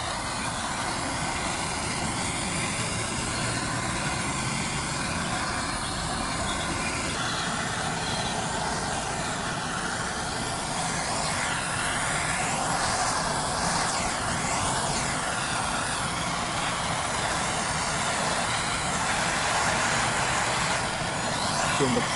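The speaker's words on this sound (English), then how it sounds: "And now we'll go and torch it." A blowtorch flaming a textured wooden box, a loud steady roaring hiss that runs unbroken and close, swelling slightly toward the end.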